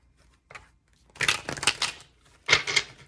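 Tarot deck being shuffled by hand, a short tap followed by two close riffling bursts of cards with brief pauses between, near and fairly quiet.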